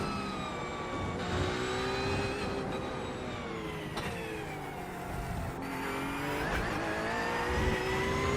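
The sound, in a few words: race car engine accelerating, from the video game iRacing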